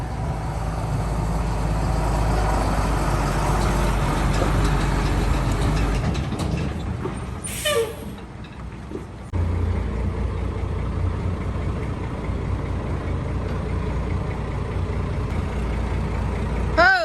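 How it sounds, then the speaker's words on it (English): Truck engine idling, a steady low rumble that drops out briefly partway through and then returns, near and continuous with no talking. "This is the truck that he has to turn off with the stick up under the hood."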